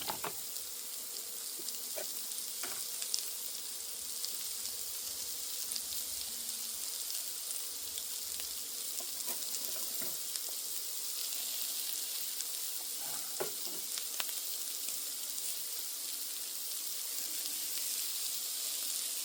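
Butter fries in a pan with a steady, faint hiss of sizzling and scattered small pops and crackles throughout, close by with no talking.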